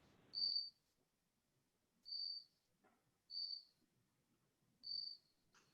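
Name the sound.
cricket chirping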